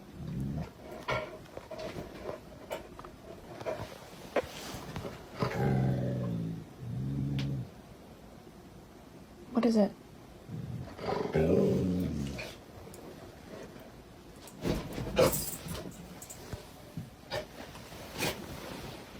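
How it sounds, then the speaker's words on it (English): A dog of roughly 50 to 80 pounds growls low and whimpers in short, spaced bursts, fairly quiet, with a brief human question spoken partway through. "the noises that dog is making are not absolutely terrifying"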